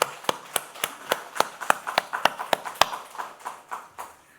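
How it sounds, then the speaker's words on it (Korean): A church congregation claps in a steady rhythm of sharp, distinct hand claps, fairly close and loud, with the claps gradually softening and blurring toward the end. "우리 하나님 앞에 영광의 박수를 올려드리십시오"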